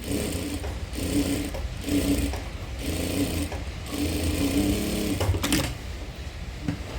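A sewing machine stitches a blouse with a boat neck design, giving a steady close mechanical whirr in several bursts separated by brief pauses, without any speech.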